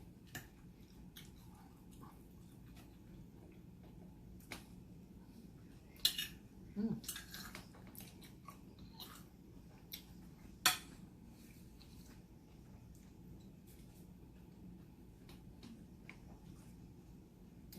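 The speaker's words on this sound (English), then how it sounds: "Scrape this plate." Cutlery scrapes and clinks against a plate during a chicken quesadilla meal, a few brief sharp contacts around the middle of the stretch over a quiet low room hum.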